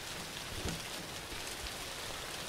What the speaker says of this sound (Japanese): ここ雨の音うるせえしな。